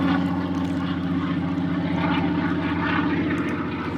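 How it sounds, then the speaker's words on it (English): A propeller airplane drones steadily overhead, a loud continuous engine rumble that fills the whole stretch without fading. "Wait for the plane to go over. Kind of noisy."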